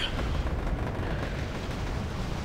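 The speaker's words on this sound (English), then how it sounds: "Bombing run coming in, taking out quite a lot of units" Rumbling explosions from a bombing run in Wargame AirLand Battle, several blasts blurring into one loud, continuous roar with no gaps and no talk over it.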